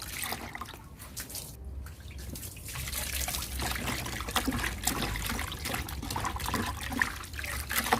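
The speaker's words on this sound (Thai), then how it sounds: "ล้างน้ำเกลือออกค่ะ" Water trickles and splashes as shrimp are rinsed of brine under running water, a soft continuous flow with small irregular splashes, fairly quiet.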